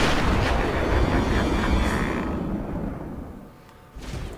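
Joker's gunfire in Batman Arkham Asylum, a loud, dense burst of booming shots and blasts that rolls on for a few seconds, then fades before a final thump.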